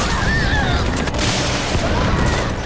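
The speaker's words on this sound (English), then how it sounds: "And our infiltrator was hit by a missile." Dense, steady roar of a missile explosion and battle noise in Metal Gear Online, loud throughout with faint whistling tones and no clear talk.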